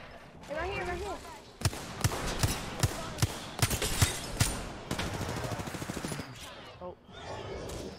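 Gunfire in the video game Apex Legends: a rapid string of sharp shots cracking out in bursts, fairly loud and close, over game background noise, with a voice speaking briefly.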